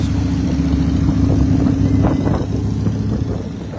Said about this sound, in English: Two motorbikes.